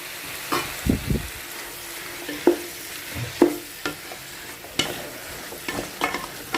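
Drained chicken fries in a pan with a low sizzle, broken by scattered scrapes and knocks of a utensil stirring at an irregular pace.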